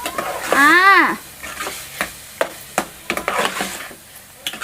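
Chopped steamed egg curry is stirred in a pan, with repeated scraping and clacking strokes and a soft sizzle underneath. A voice rises briefly near the start.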